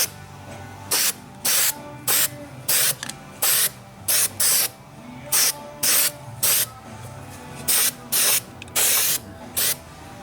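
Short bursts of weld-through primer sprayed from an aerosol can onto the rusty wheel arch of a 2000 Mazda Protege, about fifteen hissing squirts in uneven rhythm, close and loud against a faint hum.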